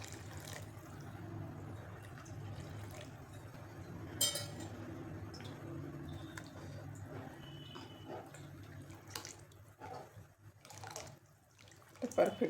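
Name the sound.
hot water poured into lentil curry in a pot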